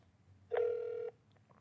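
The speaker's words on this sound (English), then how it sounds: "Let's see what happens when I dial into the call center." A single steady telephone tone lasting about half a second rings out clearly as a phone dials into a bank call center, with quiet room hum before and after and no talking.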